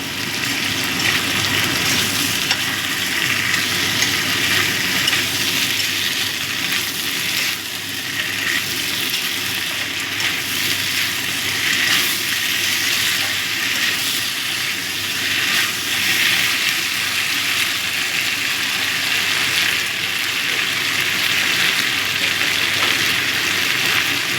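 A Bengali parshe fish curry with flat beans, potato and bori fries loudly as ginger-cumin paste is stirred in, a continuous close hiss and sizzle with faint stirring and no speech.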